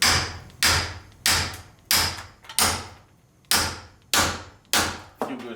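A hammer strikes hard eight times in a fairly even rhythm, each loud, ringing blow close by and decaying before the next, and the hammer breaks.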